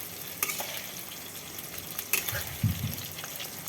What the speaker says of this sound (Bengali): এবার আমি এগুলোকে আমি উঠিয়ে দেবো, আস্তে আস্তে করে আমি নাড়িয়ে দেব।